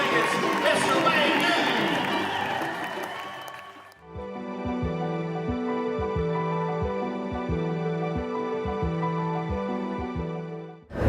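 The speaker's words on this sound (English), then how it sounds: "So a big round of applause. Put your hands together for Mr. Las Vegas, Mr. Wayne." A crowd at an Arabian horse show in Las Vegas claps and cheers loudly for about four seconds, then the applause stops and steady music with a bouncing rhythm takes over.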